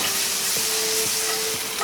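Mushrooms fry in butter in a pan beside New York strip steaks, giving a loud, dense, continuous sizzle close up with no talking.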